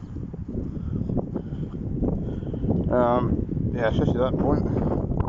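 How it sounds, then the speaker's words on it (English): Wind blows through a light sandstorm, a steady low buffeting roar against the microphone, with a person talking over it. "This one's quite light, but it is a sandstorm. You can probably just see the sun, the blue sun. I don't know if you can see that, but you can probably hear the wind."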